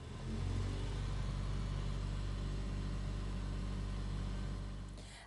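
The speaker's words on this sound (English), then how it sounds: "The tube will spin now for 6 minutes." A centrifuge spins a tube of blood with a steady low motor hum and whir, continuous and even throughout, fading slightly at the end, with no talking.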